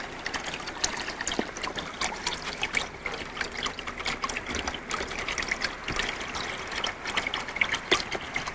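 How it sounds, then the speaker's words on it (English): A small garden waterfall in California, near a koi pond, trickles with a steady, soft splashing wash of water. The sound continues throughout, fairly close, with no talk. "And a little waterfall."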